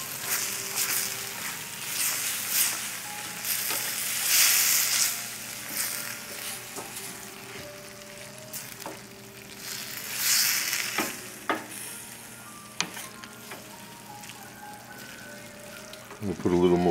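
Onions and mushrooms sizzle in a pan with olive oil over a low flame, a steady soft crackle with occasional stirring scrapes and clinks, close by.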